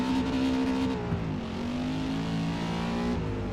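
Race car engine in Forza Motorsport held at high revs and bouncing off the rev limiter, a loud continuous drone with steady harmonic tones and a brief dip in pitch partway through, no voices.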